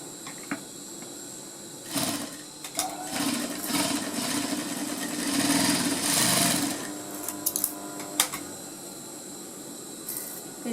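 A sewing machine stitches the darts of a 40-inch blouse cup in close, steady runs, pausing briefly and restarting several times with no talking.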